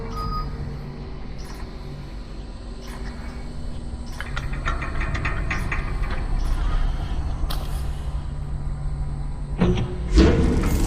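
Mechanical creaking and grinding as a tram is released in Lone Echo II, a steady machine hum with clanks and rattles building toward a louder thud near the end.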